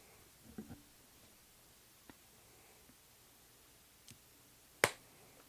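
A single sharp hand clap by someone rings out close and loud in a quiet room, preceded by a few faint scattered taps and rustles.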